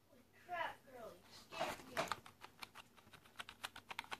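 A Cooler Master Devastator gaming keyboard is typed on, giving a run of light, quick key clicks that pick up pace, close and fairly quiet, following someone talking at the start.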